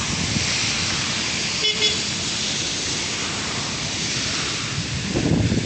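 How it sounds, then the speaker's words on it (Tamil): Fast-flowing floodwater surges through Colombo near Parliament, a loud, continuous rushing wash buffeted by wind noise, with a brief faint tone partway through. "மிக வேகமாக இருக்குது தண்ணீரினுடைய அந்த வரத்து"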